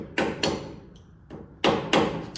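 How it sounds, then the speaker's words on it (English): Sharp metallic taps from a hammer striking a screwdriver while seating a part during a rear end swap on a 1947 Chevy, five distinct close strikes in two pairs with a brief gap, loud and alone. "I'm going to run around that with a screwdriver, a hammer, and just tap"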